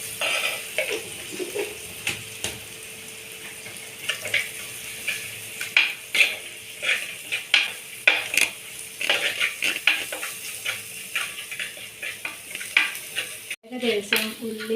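Ginger, garlic and onions sizzle steadily in a pan while a spoon scrapes and clanks against the metal in frequent irregular strokes. The stirring is heard up close with no talking, and there is a brief dropout near the end.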